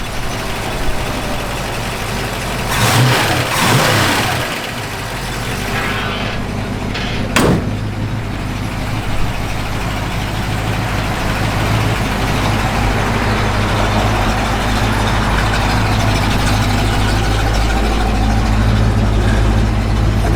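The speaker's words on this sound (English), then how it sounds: "Solid lift camshaft, you can hear that working." A 1965 Ford Mustang engine with a solid lifter camshaft runs steadily at idle, a loud continuous rumble with a faint ticking texture and one sharp knock partway through, no talking.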